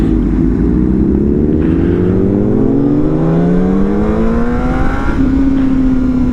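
A motorcycle engine revs up through rising, sweeping tones, loud and close throughout, with the pitch climbing steadily and leveling into a higher drone near the end.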